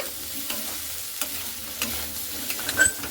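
Young jackfruit curry being stirred in a pan with a little spiced water, soft scraping and light sizzling with occasional spoon knocks against the pan, close and fairly quiet, no talking.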